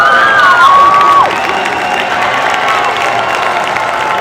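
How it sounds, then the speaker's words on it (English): Boston Latin hockey crowd in an arena cheering and jeering a goalie as he leaves the ice, a loud, sustained roar with a whistle-like tone early on, steady throughout. "So the Boston Latin crowd giving it to Ben as he comes off the ice"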